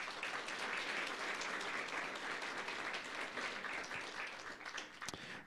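A church congregation at a Sunday Quechua service breaks into sustained, dense applause, steady and loud throughout before thinning slightly near the end.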